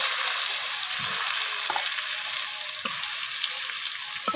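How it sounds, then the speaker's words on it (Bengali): Eggplant pieces fry in a pan of hot oil with a loud, continuous hiss close by, broken by a few soft low bumps from stirring or moving the pieces. "এবার বেগুনটাকেও আমি ভেজে নিচ্ছি"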